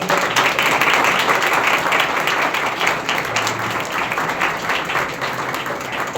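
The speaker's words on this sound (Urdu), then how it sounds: "میں چاہوں گا کہ آپ کی بھرپور تالیوں میں پاسٹر ریحان آئیں." A church congregation at a Sunday service claps in a full, continuous burst of applause, loud at first and then settling to a steady, slightly softer patter of many hands.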